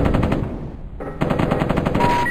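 Rapid M60 machine gun fire from the 1995 video game Mortal Coil: Adrenalin Intelligence rattles in two loud bursts split by a short gap, with no speech.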